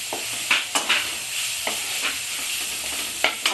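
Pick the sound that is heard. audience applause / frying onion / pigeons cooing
frying onion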